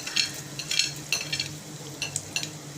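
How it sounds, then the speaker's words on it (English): Asafoetida and mustard seeds fry in hot oil for a tempering, a quiet steady sizzle broken by several sharp crackles and pops, with a spoon stirring lightly. "a very aromatic tempering happening here"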